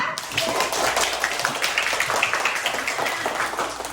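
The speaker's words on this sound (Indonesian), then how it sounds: "Oke, tepuk tangan dulu ya." Class of schoolchildren clapping hands in a classroom, a continuous patter of many claps at moderate loudness, with a few voices mixed in.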